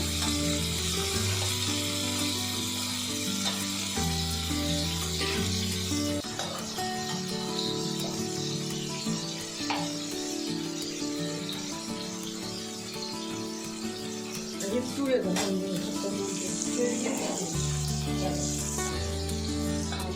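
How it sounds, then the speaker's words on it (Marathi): Paneer cubes fry in a pan, a steady broadband sizzle running through the whole stretch beneath prominent background music. "पनीर फ्राय झालेलं आहे दोन्ही साईडून"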